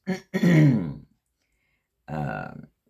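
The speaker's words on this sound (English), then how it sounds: "sorry, I keep clearing my throat" A person clears their throat twice, a short rough burst followed by a longer gravelly one, then a pause and another brief throat clear.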